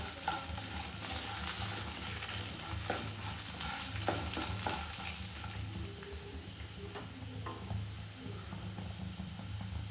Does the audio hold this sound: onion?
yes